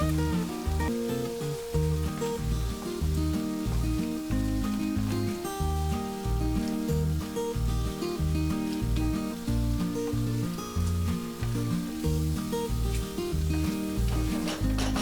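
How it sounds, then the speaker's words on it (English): Spiced masala with coriander and turmeric powder cooking in a pan for a mutton korma: a close, continuous sizzle and crackle with stirring, and no voices. "Add the masala which was previously made and cook the masala for about 2 to 3 minutes."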